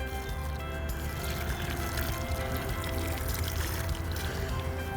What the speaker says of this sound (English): I just brought a little bit of water